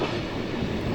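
The Swiss Glacier Express rolls along its rails with a steady, dense rumble and faint wheel clatter, heard from on board as a continuous low roar with no voices.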